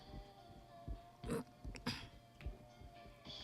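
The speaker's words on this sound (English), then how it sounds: "Cause I clear my throat." A few short, breathy bursts of throat clearing or coughing, scattered and fairly quiet, with no talking.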